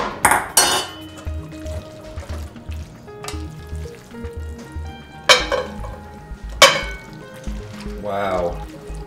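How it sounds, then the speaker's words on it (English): Pappardelle pasta with bacon and peas is lifted with tongs from a pan into a serving dish, with sharp metal clinks and scrapes, soft sizzling and squelching food noises throughout. "Turn that heat off and let's transfer it to our serving dish."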